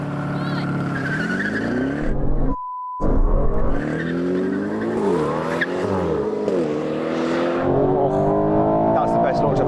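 An Aston Martin launches hard off the line in a drag race, engine revs rising through several sweeping gear changes with tire noise, loud and close, while people talk over it.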